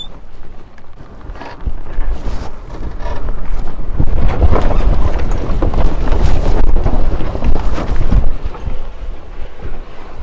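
Wind buffeting a single-handed sailboat near Chacachacare off Trinidad, a steady rushing roar with low gusty rumble against the microphone, building louder midway and easing slightly at the end, with no talking.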